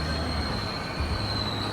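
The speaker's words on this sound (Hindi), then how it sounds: "कन्या मांडवी एक्सप्रेस है ये, और ये मडगांव से मुंबई CST होते हुए मुंबई CST जाती है" Konkan Kanya Mandovi Express train at Madgaon station, a loud steady rumble with wheel squeal and a faint clickety-clack, continuous and close.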